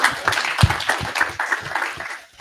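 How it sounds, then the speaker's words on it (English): Conference audience applauds at a stakeholder event on decarbonisation and biodiesel: brief scattered hand claps from a modest crowd, moderately loud and irregular, fading out after a couple of seconds. "You can applaud."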